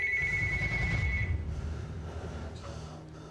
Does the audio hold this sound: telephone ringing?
yes